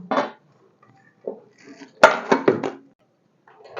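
A homemade cake drops out of its pan onto a plate with a firm thud, surrounded by scattered clinks and knocks of metal and crockery, close and fairly quiet.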